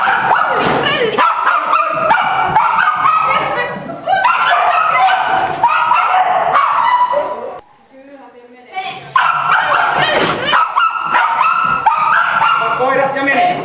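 A dog barks and yips repeatedly during agility training, loud and close, with a handler talking and calling commands throughout and a short quieter lull partway through.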